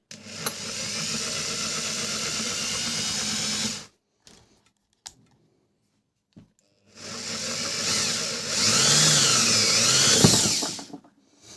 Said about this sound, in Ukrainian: Ну, акуратненько просвердлю.